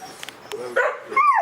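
A dog gives a few short, close barks and yips mixed with whimpering tones, fairly quiet and uneven, with gaps between the bursts.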